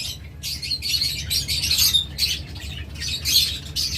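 A pair of green and olive opaline budgerigars calls close by in a quick, continuous stream of chattering chirps and squawks that comes in uneven bursts over a low background hum.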